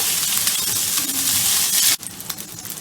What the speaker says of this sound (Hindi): चावलों को ब्राउन करने तक हमने इसको भूनना है